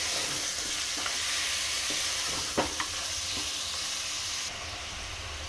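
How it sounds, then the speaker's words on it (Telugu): Mutton sizzles steadily in a hot pan for a ridge gourd mutton curry, a constant close hiss broken by a few soft scraping stirs, with no one talking. "మటన్ వేసిన తర్వాత ఒక 5 నిమిషాలు ఫ్రై చేయాలి."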